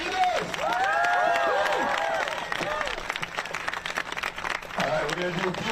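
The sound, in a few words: protest crowd applauding Professor Ryan Enos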